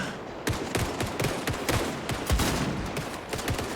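Rapid gunfire from a shootout in Indiana Jones and the Great Circle, a dense string of sharp repeated shots over a few seconds, fairly quiet and without talk.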